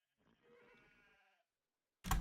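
A single sheep bleat from Civilization 5, a wavering animal call lasting about a second, followed by a sudden loud burst of game sound at the end.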